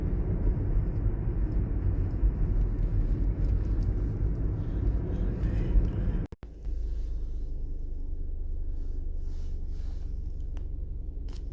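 Steady car engine and road rumble heard from inside a vehicle on a morning drive to work, a continuous loud drone with a brief dropout midway and no talking.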